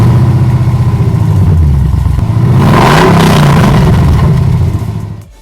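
A truck engine with Flowmaster Super 10 exhaust dumps revs hard and loud, climbing and dropping through deep throaty pulses, then cutting off as it fades away at the end.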